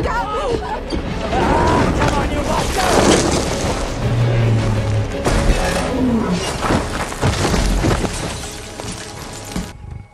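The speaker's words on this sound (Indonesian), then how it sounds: "Pada saat singa menyerang, Martin mencoba menahan singa itu cukup lama" A lion roars and attacks in a scene from the film Beast, with heavy booming impacts, rumbling growls and crashing noise layered loudly throughout before cutting off abruptly.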